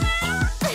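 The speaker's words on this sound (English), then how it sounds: "A kitty." A kitten gives a quick burst of three short meows in succession, close and clear, with no talking over it.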